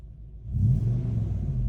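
A Lexus GX470 engine with a Magnaflow exhaust and Doug Thorley shorty headers idles with a low rumble, then revs up once into a deeper, throaty roar that holds steady.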